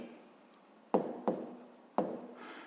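A pen scratches briefly on paper, then three short distinct strokes follow as a number is jotted down, close and quiet against faint room tone.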